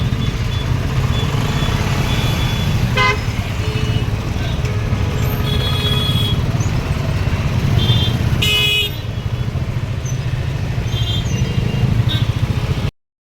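Busy road traffic in South Mumbai near Mahalaxmi rumbles steadily up close, with several short car horn honks breaking through at intervals.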